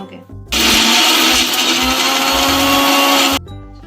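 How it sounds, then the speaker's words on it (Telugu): A kitchen mixer grinder whirs loud and close for about three seconds, grinding tamarind, garlic and other chutney ingredients, starting and stopping abruptly. "ఇది మిక్సీ పెట్టేద్దాం."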